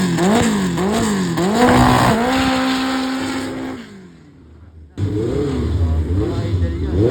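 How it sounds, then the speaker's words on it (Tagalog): Honda Civic AG hatchbacks drag racing at an NDRC drag event in the Philippines, engines revving hard in rising and falling surges, dropping away briefly before another loud burst of revving close by. "So, AG Hatch versus AG Hatch."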